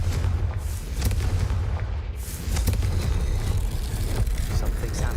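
A Confringo fire spell bursts in Hogwarts Legacy, a loud, dense rumbling blast with crackling that fills the scene and carries on as continuous booming amid a battle, with a voice speaking over it.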